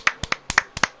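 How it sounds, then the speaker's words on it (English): A quick run of about six sharp, close hand claps in an uneven rhythm, each a crisp slap with no voices around it. "just a single clap"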